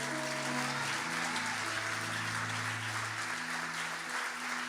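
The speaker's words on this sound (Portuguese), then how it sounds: "dá o melhor aplauso que você puder para Jesus aí" Congregation applause at an evangelical church service, a steady, dense clapping wash throughout, with sustained organ or keyboard tones underneath.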